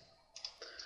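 A computer mouse is double-clicked: two faint, close, quick clicks in succession against a quiet background.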